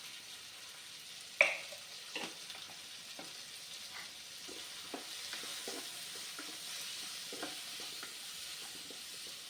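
Tomatoes sauté in a pan with a faint, steady sizzle and scattered soft scrapes and taps of a stirring utensil, one sharper clink early on, heard close and quiet without speech.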